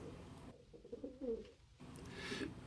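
Feral pigeons in a city giving soft, low cooing calls in short bursts, close by over a light background hum.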